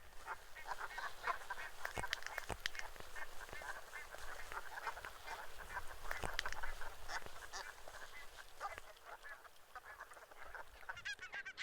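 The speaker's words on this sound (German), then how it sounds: "Nun zeige ich euch ein paar Aufnahmen von den Graugänsen." A flock of greylag geese honks and calls continuously on Wangerooge island, overlapping cackles rising and falling against steady outdoor background noise, with no voices.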